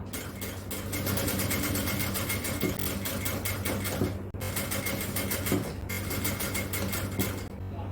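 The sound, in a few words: sewing machine stitching piping on a jalabiya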